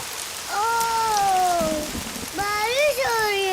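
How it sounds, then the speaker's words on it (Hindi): Steady patter of rain beneath two drawn-out, high-pitched vocal calls that rise and fall. "बारिश हो रही है।"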